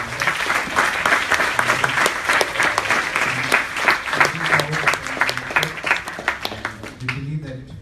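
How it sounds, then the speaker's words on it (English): A large audience at an HR panel discussion applauds steadily, dense clapping filling the room for several seconds before tapering off near the end. "Let's give a clap for yourself"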